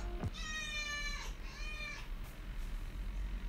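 A cat meows twice in quick succession, the first call long and rising, the second shorter, both near and clear over a faint background hum.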